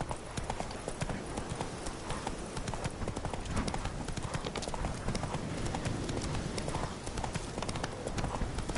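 Horse hooves clip-clop steadily in The Witcher 3 video game, an even trotting rhythm of close, crisp hoofbeats running throughout with no pauses.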